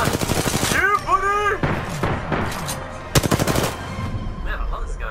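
Rapid automatic gunfire in the Apex Legends video game, loud close bursts of shots mixed with a voice talking over the action.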